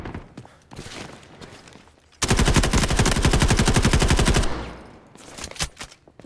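Sustained automatic gunfire in the mobile shooter Delta Force, a loud rapid burst lasting a couple of seconds after scattered quieter shots and game noise, then tailing off into more distant sounds.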